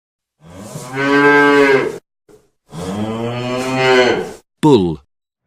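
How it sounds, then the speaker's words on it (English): A bull moos deeply and loudly twice in long sustained calls close by, followed by a brief third bellow. "bull,"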